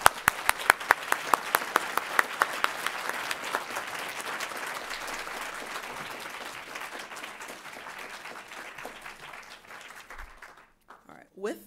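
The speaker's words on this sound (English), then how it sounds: "Let's have one final round of applause for all of our award winners." Award luncheon audience applauding its winners, a sustained wash of crowd clapping that starts strong with sharp early claps and slowly tapers off, fading out near the end.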